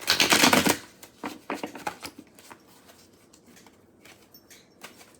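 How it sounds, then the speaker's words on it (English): A deck of tarot cards being shuffled by hand, a dense riffling burst first, then a run of lighter irregular card slaps and taps that thin out, close and fairly quiet with no talk. "I'm shuffling the deck 3 times, they have told me."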